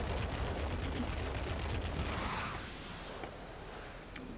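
Tail gunner machine gun in World of Warplanes firing at an F-94, a dense, loud rattling burst that fades after a couple of seconds into quieter engine rumble with a few faint clicks.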